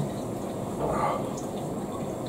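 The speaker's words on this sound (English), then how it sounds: "I'm going to give my hands a quick little wash a second" Tap water runs steadily while hands are washed under it at a kitchen counter, a soft, continuous hiss and splash with a brief swell of splashing midway.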